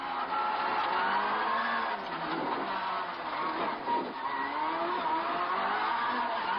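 Rally car engine revving hard on a gravel stage of the 1994 Rally of Portugal, a continuous loud drone with rising and falling pitch as the driver attacks, with tyre and gravel noise mixed in.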